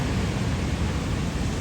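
Ocean waves break and wash onto T-Rex Beach at Nusa Penida in Bali, a continuous close, loud surf roar with no voices.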